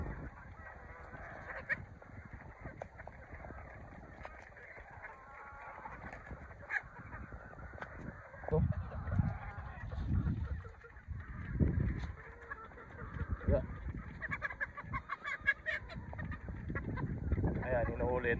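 Young roosters squawk and honk loudly in repeated bursts as they are caught and fitted with short cords for harvest, with people talking underneath and ongoing farmyard commotion.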